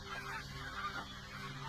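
Birds call agitatedly near a spot where a tree is being cut, a faint, brief run of honking, goose-like squawks over a low steady hum, heard at a distance.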